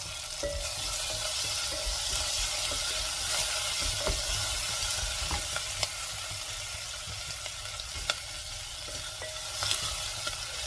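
Onions and one cut green chili frying in a pan for mushroom biryani, giving a steady close sizzle with occasional scraping stir strokes and light clicks, no talking.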